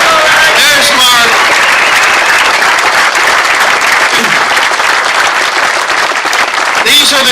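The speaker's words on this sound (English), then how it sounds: "give these two an incredible round of applause" Loud, dense crowd applause at an outdoor statue unveiling in Cleveland's Little Italy, sustained and close, with voices calling out over the clapping.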